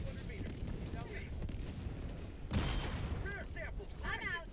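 A sudden deep blast erupts midway through a squad shooter game, rumbling briefly over a sparse background of game sounds, with players talking around it.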